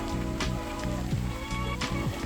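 Steady rainfall patters on a surface, a constant hiss with faint droplet taps and a low background hum.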